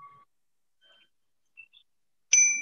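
A meditation bell rings once near the end with a bright, sustained tone during a prana yoga breathing session, after a few faint, brief tones in near silence.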